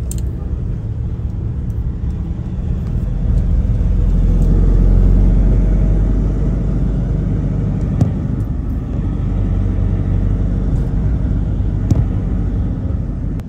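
Slow road traffic on a congested street in Cebu, Philippines, backed up by a collision: a steady low engine rumble and tyre drone from nearby cars, swelling slightly midway, with no talk.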